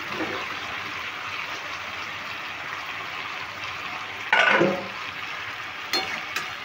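Fried potatoes and chopped jackfruit drop into a pan of cooked-down masala, giving a steady sizzle and frying hiss with a louder burst of sizzling partway through, then a couple of brief clinks of a utensil.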